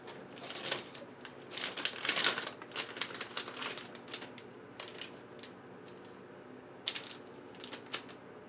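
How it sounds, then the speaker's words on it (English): Computer RAM sticks pressed down into motherboard slots, with a run of sharp plastic clicks and rattles over a few seconds, close and fairly loud, then sparser ticks as the modules seat. "So you just push down till they click."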